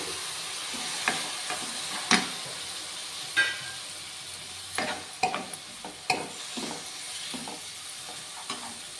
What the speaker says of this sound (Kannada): ಇದನ್ನು ನೀಟಾಗಿ ಫ್ರೈ ಮಾಡ್ಕೊಳ್ಳೋಣ ಇದಕ್ಕೆ ಇವಾಗ ಟೊಮೆಟೊ ಹಣ್ಣು ಹಾಕೊಂತ ಇದ್ದೀನಿ